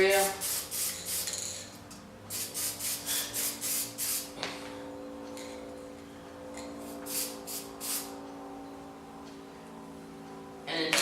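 Black spray paint hisses from an aerosol can in a rapid series of short bursts, then sparser sprays with gaps, close and fairly loud.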